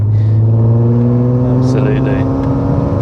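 Supercharged Mk4 Volkswagen Golf R32 with a stock engine revving high, a loud, steady engine drone held throughout with a voice talking over it.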